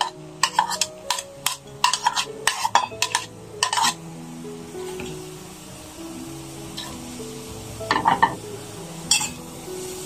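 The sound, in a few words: sautéing grated vegetables in ghee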